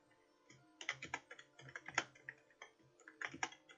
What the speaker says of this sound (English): Can you stop typing seriously?